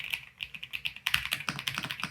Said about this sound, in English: I feel like I can type on this forever.